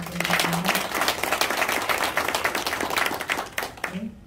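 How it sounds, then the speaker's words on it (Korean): Sustained applause from a crowd at a green welfare village agreement and welfare center proclamation ceremony, dense clapping filling the whole stretch at steady loudness, with a brief voice faintly heard at the start and end. "다시 한번 큰 박수 부탁드립니다."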